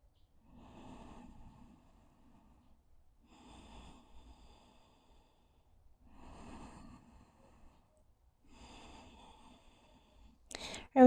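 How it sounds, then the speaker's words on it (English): A yoga practitioner takes four slow, deep breaths in a quiet room, each a soft, airy inhale or exhale lasting about a second, spaced roughly every two and a half seconds, close and faint, with a brief louder rustle at the end. "Taking some nice deep breaths."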